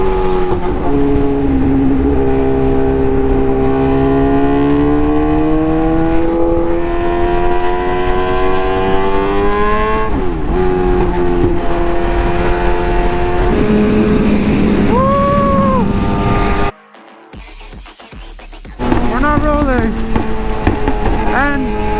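A loud, tuned Suzuki GSX-R1000 motorcycle rides through city traffic, its engine droning steadily with rising and falling revs through gear changes, a sharp drop-off and quick revving bursts near the end, with a rider talking over it.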